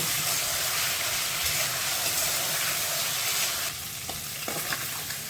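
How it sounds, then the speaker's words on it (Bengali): Prawns frying in mustard oil in a wok give off a loud, steady sizzle with a constant hiss and a few faint scraping stirs near the end, close up with no voices. "চিংড়ি মাছগুলো ভাজা হয়ে গেছে ওগুলো এবার তুলে নেব"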